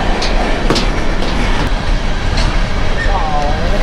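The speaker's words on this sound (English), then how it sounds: "Got a train." A loud train rumbles close by with steady rolling noise, a few sharp clicks and a brief high squeal near the end.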